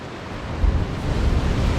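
Broadband roar of ocean swell and wind at sea off the Azores, near São Jorge and Graciosa, steady and fairly loud with low rumbling surges and gusty wind noise on the microphone, no voices.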